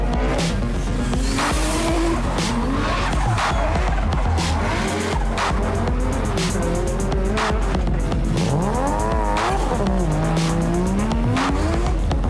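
Drift cars at a championship event in Japan roar past with engines revving and rising, wavering tire squeals, loud and continuous with overlapping skids throughout.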